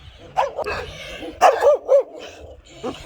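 Dogs bark and yip in short, loud bursts in an animal shelter kennel, several separate barks spaced across a few seconds with quiet gaps between.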